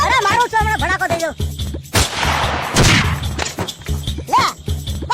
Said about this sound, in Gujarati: ગોળી મારને અરે મારું છો મને ભડાકો દઈ દો